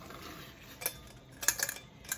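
Green beans drop into a pot of boiling water, giving a few sharp clinks and splashy taps in quick clusters over a steady low bubbling hiss, fairly close, with no talking.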